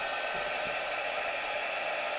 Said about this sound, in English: what I do is I go in with my heat gun